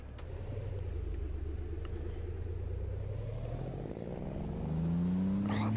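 A Western Star 4900FA truck engine in American Truck Simulator revs steadily, a deep continuous drone that climbs in pitch toward the end, loud and close with no talking.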